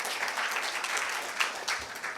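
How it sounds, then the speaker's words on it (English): An audience at a corporate social responsibility summit in Maharashtra applauds to welcome a speaker, a steady, dense crowd clapping that fills the room without voices over it. "Please welcome, with a big, big round of applause, Mr. D. Sreenivas Rao."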